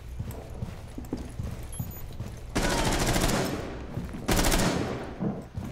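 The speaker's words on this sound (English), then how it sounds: "I was constantly firing." Gunfire in Rainbow Six Siege on a skyscraper map: faint scattered shots, then two loud sustained bursts of close automatic fire, each lasting a second or more.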